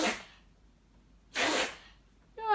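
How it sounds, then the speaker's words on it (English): A pet dog named Billy sneezes indoors, two sharp breathy bursts about a second apart, nearby and fairly loud, followed by the start of a voice. "My dog's sneezing in the background."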